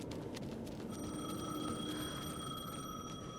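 A telephone rings steadily in a video game, its bell tone repeating in a continuous trill over a dense background ambience for the whole stretch.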